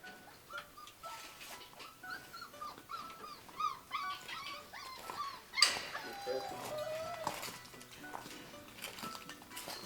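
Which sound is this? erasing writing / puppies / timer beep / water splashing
puppies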